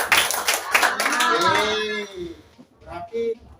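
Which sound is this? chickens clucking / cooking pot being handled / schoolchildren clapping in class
schoolchildren clapping in class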